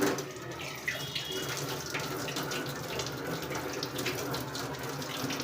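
Running tap water pours steadily into a sink while something is washed underneath, a loud, continuous, close-up rush of water with no talk.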